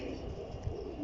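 A low, soft coo from a kamangar pigeon, a flying breed, heard close and steady for about a second with no talk over it.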